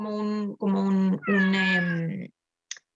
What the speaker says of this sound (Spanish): esa es mi gatita que maulla